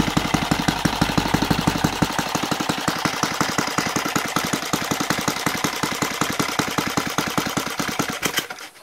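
A Saito FG36 model airplane gas engine with CDI ignition runs steadily at low idle. It gives a close, loud, rapid chain of even pulses that cuts off abruptly at the very end.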